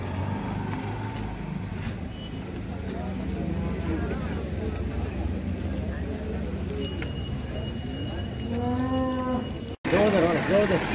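Calves low repeatedly at the Chakan bullock market in a busy, noisy crowd, with steady background hum and voices, and a louder close moo bursting out at the end.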